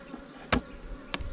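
Honey bees around a large double hive box, heard as a steady low buzzing hum with two short louder bursts as bees pass close by.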